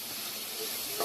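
Food frying in a pan in a home kitchen: a steady, bright sizzling hiss with no break across a brief moment, heard close up.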